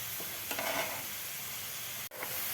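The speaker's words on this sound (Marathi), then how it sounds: "हे आपल्याला व्यवस्थित परतून घ्यायचे आहे 2 ते 3 मिनिट कांदा" Onion sautéing in a pan for a dhaba-style egg masala, a steady soft sizzle with a few scraping stirs and one sharp click near the end, close and alone with no voices.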